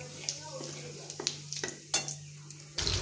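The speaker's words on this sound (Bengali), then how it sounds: "এবার তেলের মধ্যে আমি দিয়ে দেবো তেজপাতা, একটা শুকনো লঙ্কা আর একটু গোটা জিরে।" Bay leaf, a dried red chili and whole cumin hitting hot oil in a pan, with soft sizzling, spoon clinks against the pan and a louder burst of frying at the end.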